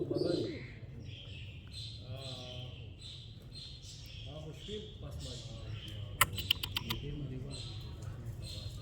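Pet pigeons cooing softly and repeatedly at close range in a quiet indoor space, with a few brief chirps and a light clicking flutter along the way.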